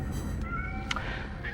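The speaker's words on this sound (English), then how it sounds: "It was a cat, right?" A cat meows in the video game Nine Sols, with one short, clear, close meow over a low background hum.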